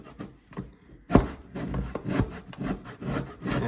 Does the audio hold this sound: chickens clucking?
no